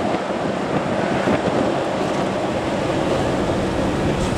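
A 1937 Ford V8 car cruising at about 45 mph, giving a steady, loud, unbroken roar of engine, road and wind noise throughout, with no talking.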